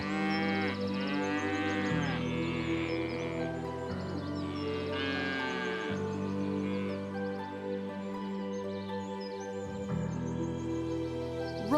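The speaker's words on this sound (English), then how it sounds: "It's a cow." A cow moos in several long, loud harmonic calls back to back with no one talking, over a steady low drone that may be music.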